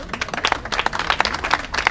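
Brisk applause from a small audience at a book fair in Saint-Laurent-du-Var, individual claps distinct and rhythmic, moderately close, continuing steadily without talk.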